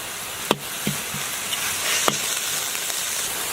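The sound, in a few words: stir-frying minced pork in a wok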